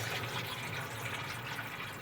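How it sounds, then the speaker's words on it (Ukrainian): Water rushes steadily into a washing machine, a continuous soft hiss and gurgle of filling, quiet and close, with no voices. "Все, вода набирається"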